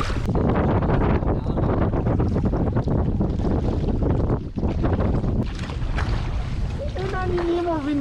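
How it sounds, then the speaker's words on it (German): Strong headwind buffets the microphone while travelling along a road, a loud continuous roaring rumble that fills the whole stretch, with a brief dip midway and a faint warbling tone near the end. "Unangenehmer Wind von vorne."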